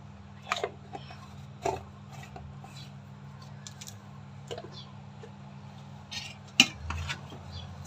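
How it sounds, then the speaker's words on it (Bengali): A spoon stirs khichuri cooked with ghee in a pot, giving faint, sparse scrapes and clinks against a steady low background hum. "আর একটু নেড়ে দিলাম"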